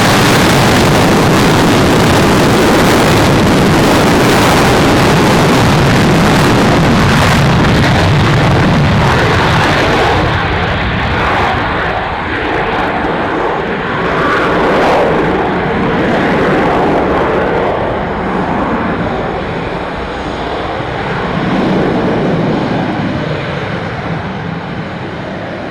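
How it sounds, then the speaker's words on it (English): A German Air Force jet takes off from a runway at an airshow, a loud, roaring wall of engine noise that gradually recedes and thins out as it climbs away. "Clear for takeoff, runway 20, German Air Force, Kilo 31."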